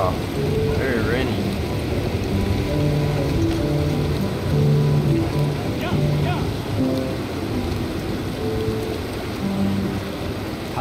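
Steady, dense rainfall hisses throughout in the Red Dead Redemption 2 game world, a constant wash of drops under sustained tonal music and occasional brief voice-like sounds.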